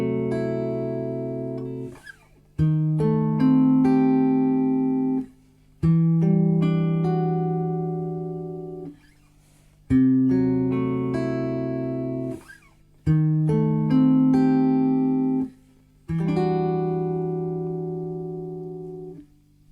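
A guitar plays a minor ii-V-I lick, with the same chord shape moved up a minor third. Six or seven strummed and picked chord phrases ring out with short gaps between them, close and clear, with no talk.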